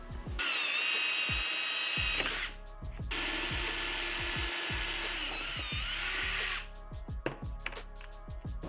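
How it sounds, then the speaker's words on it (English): A power drill bores push-pin holes through plastic covers on a Yamaha XSR motorcycle, running in two long, loud, whining bursts with brief pauses and small clicks between them. "So let's get those drilled out."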